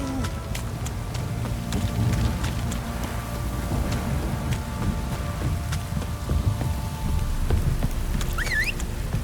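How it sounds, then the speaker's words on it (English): In The Witcher 3 Next Gen on PC, a heavy rain downpour hisses steadily. It is a dense, even wash of falling rain with scattered drop ticks and a low rumble underneath, continuing throughout. "This downpour's a bastard, it is."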